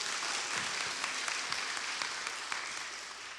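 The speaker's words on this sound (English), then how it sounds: "Round of applause, everybody." A workshop audience claps after a singer's performance in a vocal workshop, giving steady, fairly faint applause that holds evenly throughout.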